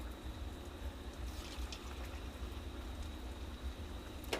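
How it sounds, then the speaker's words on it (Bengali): Puffed-rice gulab jamun frying in plenty of oil, giving a steady, soft bubbling sizzle with faint crackles throughout and no talk. "এভাবে আস্তে আস্তে করে ভেজে নিতে হবে, অল্প অল্প করে ভেজে নেব।"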